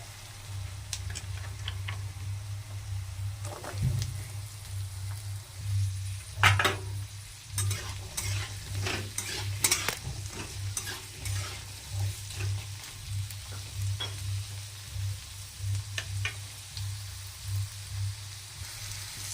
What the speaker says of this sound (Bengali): পেঁয়াজ কুচিগুলো হালকা ভাজা ভাজা হয়ে এসেছে। এবার আলুগুলো দিয়ে দেবো এর মধ্যে।